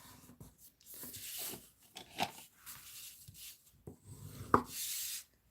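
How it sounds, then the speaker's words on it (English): Someone folds a scrap of white cardstock and burnishes the crease, heard as soft rubbing and rasping strokes in short bursts separated by quiet gaps, close and fairly faint. "So let me fold and burnish this."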